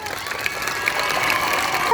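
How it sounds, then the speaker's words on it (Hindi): A school Teacher's Day audience applauds and cheers a girls' performance, with dense, steady clapping and crowd noise that holds for the whole moment and voices mixed in. "जोरदार तालियां इन गर्ल्स के लिए."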